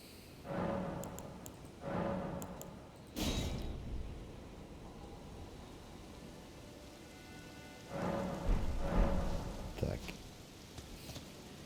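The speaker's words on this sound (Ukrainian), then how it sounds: "тут знов дощ" Steady rain hisses across the Elden Ring game world, with a few louder swelling bursts of downpour or gusts rising and falling over the continuous wash.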